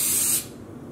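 Wilton's Color Mist spray food coloring hisses from the can onto yarn in one short, close burst of under half a second, then stops.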